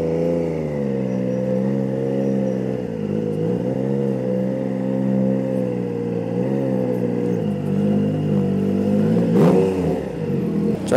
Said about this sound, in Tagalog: Pa-relax lang muna yung makina.